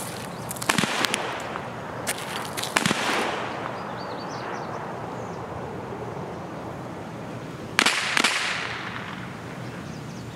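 Distant gunshots in the game Escape From Tarkov, a few sharp cracks scattered through a steady ambient wash, with a couple of close spaced reports early and one more near the end.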